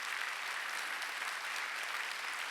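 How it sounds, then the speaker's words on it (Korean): Steady applause from a church congregation during a Sunday worship service, dense even clapping sustained throughout at moderate distance with no voices over it. "박수를 치려면 치면 되는 거죠."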